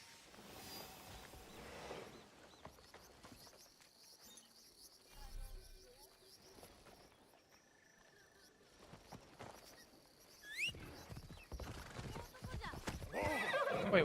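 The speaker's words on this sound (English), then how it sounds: "Wait, why have we got the horse again?" Hooves of a video game horse clip-clop intermittently alongside an occasional neigh, faint and scattered among other game effects, with bursts of louder activity near the end.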